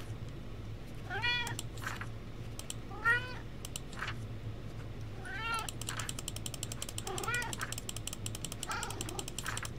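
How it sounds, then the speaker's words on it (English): Cat meowing repeatedly in a video game while being petted, four or five distinct meows spaced a couple of seconds apart over a quiet background hum, with faint clicking later on. "Pet the kitty."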